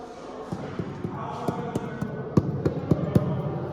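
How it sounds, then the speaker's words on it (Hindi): Knocking on a hollow wall inside Agra Fort, a series of sharp, resonant raps that grow more frequent and louder, close by and alone with no talk over them. "ये अंदर से आवाज आ रही है होलो"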